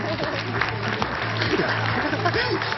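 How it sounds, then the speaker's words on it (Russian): Steady applause from a crowd fills the whole stretch, dense and continuous, with a faint low hum and some murmuring underneath. "вам громкие аплодисменты"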